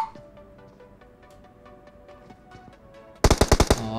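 Gunfire in the PUBG Mobile video game, set on a snowy map: a loud, rapid burst of about six automatic shots near the end, following quieter in-game ambience with faint clicks.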